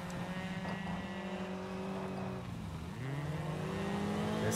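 Hyundai i20 N Rally2 rally car engine in the WRC Generations video game on the Safari Rally Kenya stage, a loud steady droning engine note that dips and climbs again as the car shifts and accelerates, with no talking.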